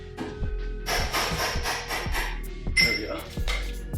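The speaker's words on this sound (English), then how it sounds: "I'm gonna take a little hammer and just straighten that out." A small hammer taps repeatedly on a bent part of a BMW E39 M5 driveshaft, about ten sharp, close metallic strikes in an uneven rhythm with some scraping between them.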